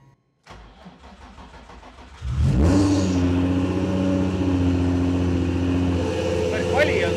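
A Nissan 350Z engine cranks, catches and roars to life, then holds a loud, steady rev with a brief rise near the end.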